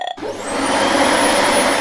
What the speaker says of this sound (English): That's the vacuum cleaner, says Chloe.